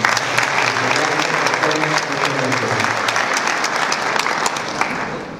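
An audience at the honor roll ceremony of the 14th International Aquaculture Forum applauds in a loud, sustained wash of clapping that continues evenly throughout, with a voice faintly audible underneath.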